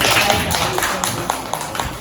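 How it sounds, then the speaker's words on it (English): Young kindergarten children at a school clap their hands in short bursts of sharp, close taps, uneven in rhythm. Voices can be heard alongside the clapping. "Clap."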